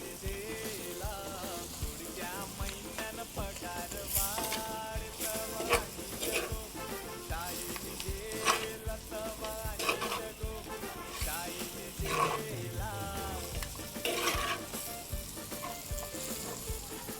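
Steady crackling sizzle of masala frying for mutton in a hot pan, with scraping stirring strokes throughout, close and continuous.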